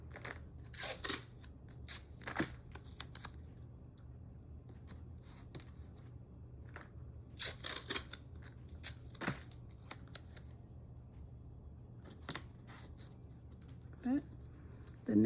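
Scissors snip through tape on the edges of acrylic bookmarks in a series of short, sharp, irregular cuts with quiet pauses between them, close up, with handling noises and some faint speech.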